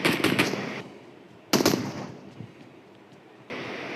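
Gunfire in PUBG Mobile, two quick bursts of sharp rapid shots with echoing tails, followed by a steady noisy hiss near the end.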